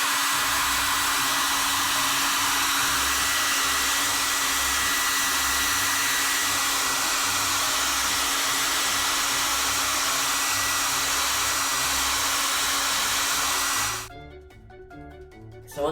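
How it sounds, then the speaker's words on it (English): A hairdryer blows on an iPad Mini screen to soften glue with a loud, steady rushing hum for about fourteen seconds, then cuts off abruptly. "Let's do the hairdryer."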